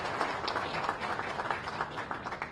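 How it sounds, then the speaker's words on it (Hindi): Applause from an audience at a national highway project foundation-stone ceremony in Rajasthan, a steady, dense wash of clapping that runs without a break. "ऐसे माननीय नितिन गडकरी जी के लिए जोरदार तालियों से आप स्वागत करें,"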